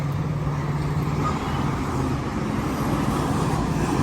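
A car being driven, heard as a steady, low engine and road rumble that holds at an even level throughout, with no voices.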